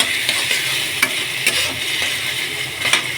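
Cauliflower sizzles steadily in hot oil in a pan, a dense close frying hiss with occasional sharper crackles and faint stirring scrapes, no voices.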